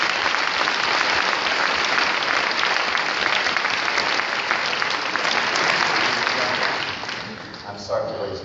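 Loud, sustained applause from a large crowd, steady clapping that fades slightly near the end as a voice begins to speak.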